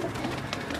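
Teddy pigeons give a brief, soft coo up close, lasting under a second.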